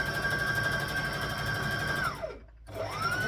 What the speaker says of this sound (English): I'm going to stitch this front section here.